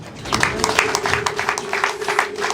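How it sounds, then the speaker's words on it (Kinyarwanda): Applause with ululation at a Rwandan wedding celebration, a crowd clapping in a dense, steady patter with a sustained high trilling cry running through it, loud and continuous. "Amashyi n'impundu"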